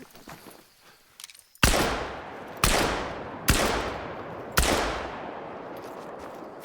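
Four loud shotgun blasts fired at a turkey in the hunting game theHunter: Call of the Wild, each a sharp crack with a long decaying tail, spaced about a second apart after faint rustling footsteps.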